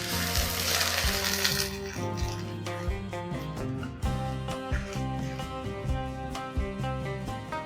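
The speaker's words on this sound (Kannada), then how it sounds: "ಆ ಬಿಸಿ ನೀರ್ನ ಇಲ್ಲೇ ಹಾಕೊಳ್ಳೋಣ" Hot water poured into a pan of frying onions for broccoli almond soup, a loud sizzling burst that settles into steady bubbling with light clinks of utensils.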